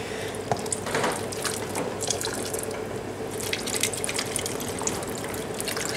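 Water being poured into a pot, about one and a half litres, a steady rushing splash with light trickling and dripping close by, continuing for several seconds with no speech.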